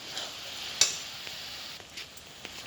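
Melted sugar being stirred and cooked in a pan, a faint sizzle with a few light scraping clicks of the spoon.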